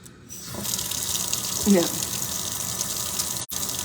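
Kitchen tap water running steadily into a sink while metal nail care tools such as nippers and tweezers are washed, a continuous close gushing with a brief splashy swell midway and a short clack near the end.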